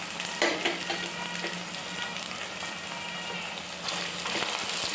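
Peanuts and vegetables cooking in hot oil for a homemade pasta snack, a steady crackling sizzle with a few sharper pops and stirring scrapes near the start, fairly close and continuous, no voices.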